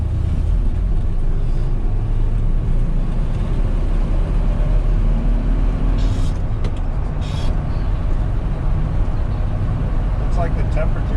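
A 1966 Ford F100 pickup with a three-on-the-tree column shift cruises steadily, its broad engine and road rumble continuous throughout, with a light rush of wind leaking around the aged front windshield gasket and a couple of brief higher hisses near the middle.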